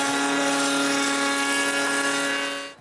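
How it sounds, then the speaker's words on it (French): A router fitted with a half-round bit cuts a moulding profile along leftover solid wood panels for a bathroom vanity, a loud steady high-pitched whine that holds for nearly three seconds, then quickly dies away. "j'utilise une mèche qui fait une coupe de demi-rond sur les restes des panneaux solides"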